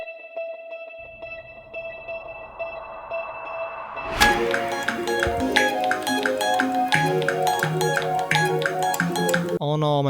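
A guitar line drenched in many effects opens with sustained shimmering tones, then a busy, layered pattern of plucked notes kicks in about halfway, part of a beat produced in Cakewalk.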